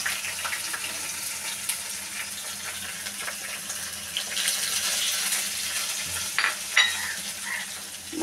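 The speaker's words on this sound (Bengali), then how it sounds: "মশলাগুলি কষিয়ে নেব।" A ground spice paste is sautéed with browned onions in a frying pan, giving a steady soft sizzle with occasional stirring scrapes, moderately quiet and continuous, with no talk.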